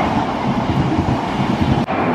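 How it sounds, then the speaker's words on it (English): A train pulls into a Tokyo station with a loud, continuous rumble and steady rolling wheel noise close by, filling the scene without any voices. "And train's here."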